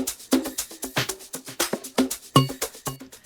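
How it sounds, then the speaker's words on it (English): A 3-step Afro house drum groove made in FL Studio with a layered percussion loop, punchy kicks and snappy hits in a steady repeating rhythm, close and loud with no voices. "those drums with the percussion loop sounds like this."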